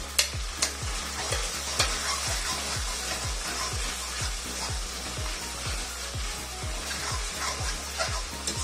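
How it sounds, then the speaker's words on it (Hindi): Sliced green chili and ginger tossed into a frying green chickpea vegetable dish, a steady sizzle under a regular rhythm of spoon strokes scraping the pan, close and fairly loud with no voices. "इसके बाद मैं हरी मिर्ची और अदरक के स्लाइस काटे रखे हुए ये मैं डाल देंगे।"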